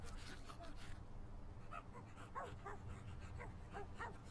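Several dogs in a neighborhood video game whimper and yip in short, repeated bursts right after their food bowls are filled, the sounds layered over a steady background of game music or ambience.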